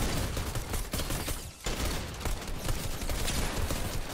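Rapid gunfire in a video game crackles in dense, overlapping bursts of shots, with a brief lull near the middle before the loud volleys resume and continue to the end.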